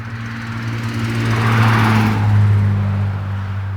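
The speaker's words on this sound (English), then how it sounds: "It sounded like a big truck when it hit the bridge." A big truck rolls across a bridge in the Alabama woods, its low engine drone swelling to a peak mid-pass and easing off, with a steady tonal hum and broadband road rumble.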